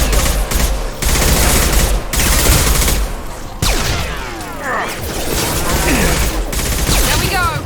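Rapid bursts of gunfire from a Mass Effect 2 Legendary Edition firefight, loud and close, with sweeping whooshes and impacts between volleys and no talking.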